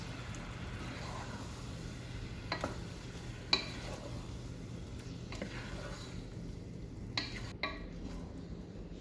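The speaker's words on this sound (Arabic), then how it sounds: "هنقلب كويس لحد ما الطماطم تتسبك معانا وتدوب خالص" Tomatoes and onion stir-frying in a pan for Yemeni stuffed chicken, a steady faint sizzle with a few soft scrapes of stirring, no talk.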